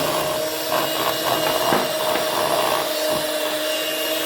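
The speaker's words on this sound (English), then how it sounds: "We want to beat it in as well with our mixer." An electric mixer beats butter, peanut butter and icing sugar with a steady, loud whirring drone that holds throughout, its motor tone constant and uninterrupted by talk.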